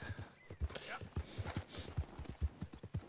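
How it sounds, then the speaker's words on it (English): A horse in Red Dead Redemption 2 carries its rider at a walk, hooves clip-clopping in an even, close rhythm of dull thuds while someone talks quietly over it. "You're a good horse."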